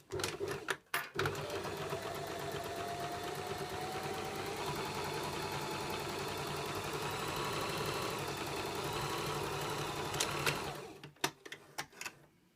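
A sewing machine running steadily while stay stitching around a shirt neckline at regular stitch length, a close, even mechanical whir lasting about ten seconds between a few short clicks and bumps at start and end.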